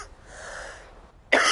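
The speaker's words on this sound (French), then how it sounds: "Désolé, je tousse." A sick young streamer coughs once, a short harsh burst near the end, following a stretch of breathy throat noise, close and fairly loud with no talk.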